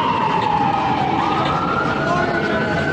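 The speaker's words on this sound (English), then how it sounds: "Hey, we got the ambulance." An ambulance siren wails steadily with a falling and rising pitch, fairly loud over the rumble of traffic on the road.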